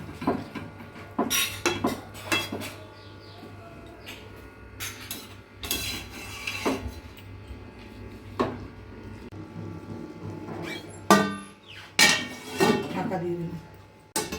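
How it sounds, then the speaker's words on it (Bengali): A cooking pot of muri ghonto with hot water being covered, giving a run of close metallic clinks and clatters of lid and utensils against the pot, in scattered bursts over a low steady background hum. "ছেড়ে দিয়ে আবার ঢাকা দিয়ে দেবো।"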